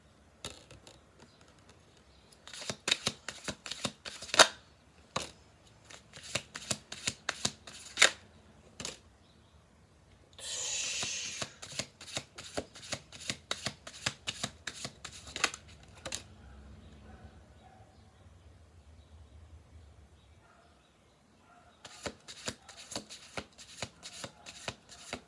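Playing cards are shuffled nearby in repeated rapid riffles, broken by short pauses and a brief rushing swish in the middle.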